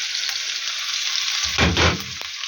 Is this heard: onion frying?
yes